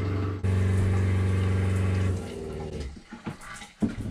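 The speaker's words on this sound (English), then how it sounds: "that pump runs when it senses that the pressure is less than whatever the set point is" An electric water pump in an off-grid bath house hums steadily with a tonal drone for about two seconds, then cuts off, leaving faint bumps and handling noises.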